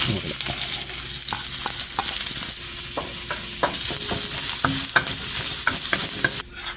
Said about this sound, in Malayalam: അപ്പോൾ എണ്ണ ചൂടായിട്ടുണ്ട് അതിനകത്തോട്ട് നമുക്ക് ഇഞ്ചി മുളക് ഉള്ളി വെളുത്തുള്ളി ആമ്പു ഏലക്ക തുടങ്ങിയ മസാലകളും എല്ലാം കൂടെ ചേർത്ത് അങ്ങോട്ട് ഇടുകയാണ്